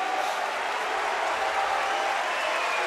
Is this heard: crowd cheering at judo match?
yes